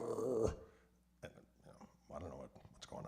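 A man imitates a dog with his voice, giving a short throaty growl followed by softer whimpering and yipping sounds, close to the microphone and fairly quiet overall.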